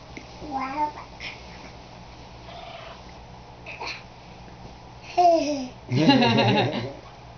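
A house cat meows several times in short, rising and falling calls at close range, separated by brief pauses, with faint background voices.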